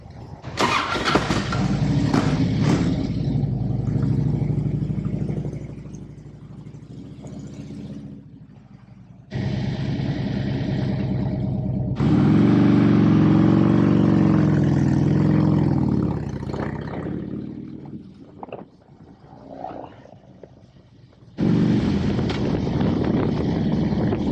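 A 2009 Harley-Davidson bagger motorcycle engine rumbles up close, starting and idling in bursts with cut-offs and restarts, a deep mid-pitched throb with revving swells.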